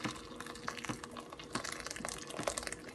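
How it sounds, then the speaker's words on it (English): Hot water poured into a pot of beans and plantain porridge seasoned with a little salt, a steady close splashing and trickling wash with small irregular bursts, no talk over it. "I'll pour hot water"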